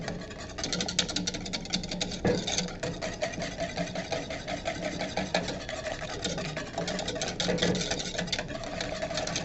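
A whisk beating chunks of cream cheese into a warm mac and cheese sauce in a pot, making a continuous fast rattling and scraping whir that stays loud and steady throughout, with no speech.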